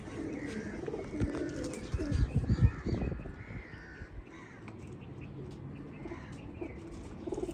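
Pigeons cooing softly amid other bird calls, with a brief louder burst of rustling or wing flaps partway through.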